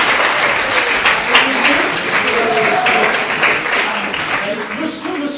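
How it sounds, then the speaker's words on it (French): Audience at an awards ceremony applauds steadily, a dense wash of many hands clapping close and loud throughout, with no pauses. "Il faudrait qu'on applaudisse son représentant du président de la République."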